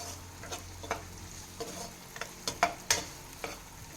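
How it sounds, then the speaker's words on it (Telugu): Pasta being fried in a large nonstick kadai, with a spatula stirring and scraping in scattered soft clicks and scrapes over a low, steady sizzle. "కొంచెం గోల్డెన్ బ్రౌన్ వచ్చే వరకు వేయించుకోవాలి"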